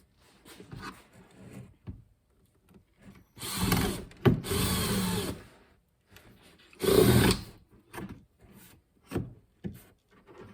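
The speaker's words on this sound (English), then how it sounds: "drill a hole" A power drill bores a hole through a metal trash can leg, with several separate bursts of whirring and grinding between quieter pauses of handling and scraping.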